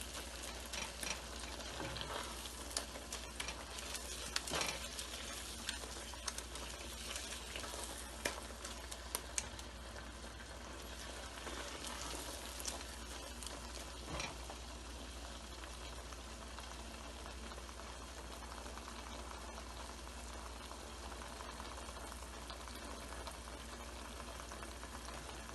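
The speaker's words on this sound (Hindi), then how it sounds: "मीडियम हीट पर हम इसको पका रहे हैं और मुसलसल चमचा चला रहे हैं इसका।" Moong dal halwa cooking over medium heat while being stirred continuously with a spoon, a steady soft frying and bubbling hiss with occasional scraping taps, low in level and without speech.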